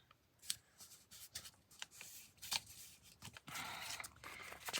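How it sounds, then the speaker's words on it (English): Sheets of paper being folded and creased into an envelope, giving a run of crisp rustles, crinkles and sliding swishes at close range with no talking. "I'm gonna fold them this way first"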